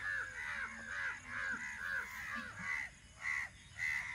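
Several crows gathered around a dead crow caw repeatedly in rough, overlapping bursts, some close and loud, others slightly farther off, with no talking.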